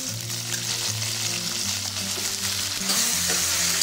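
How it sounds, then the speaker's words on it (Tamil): Steady sizzling of eggplant frying in hot oil, continuous and close, with a low musical hum underneath and no talking. "இப்போ கத்திரிக்காவை நல்லா எண்ணெயில் வதக்கிடலாம்."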